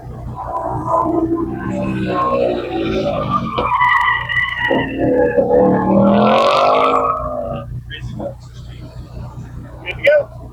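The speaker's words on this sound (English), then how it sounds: "I'm in second gear now, trying to hit the closest I can get to the next cone to make that turn" Subaru WRX running an autocross course in second gear, tires squealing and skidding through turns over engine noise, with someone talking over much of it.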